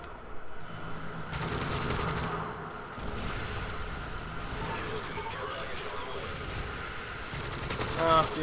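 Gunfight in the first-person shooter Modern Warfare 3: bursts of rapid automatic gunfire come and go at mid-distance over a low game rumble, with a voice speaking now and then.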